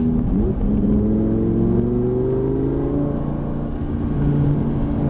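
A Lamborghini Gallardo accelerates hard on the Lédenon race track, its loud engine note climbing steadily through the gears with rising whine and deep rumble, heard close from inside without talking.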